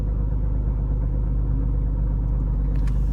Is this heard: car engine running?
yes